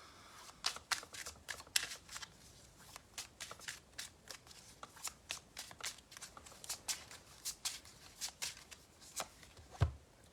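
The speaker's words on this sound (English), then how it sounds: "let's get a card for Tanisha." Tarot cards are shuffled and drawn during a live reading, a steady run of crisp riffling snaps and flicks that comes through close and fairly quiet, with no talk over it.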